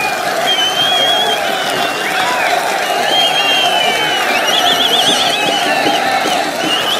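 A large crowd at an outdoor political rally in Anantnag, Jammu and Kashmir applauds and cheers to welcome Rahul Gandhi, a dense, continuous roar of clapping threaded with shrill whistles.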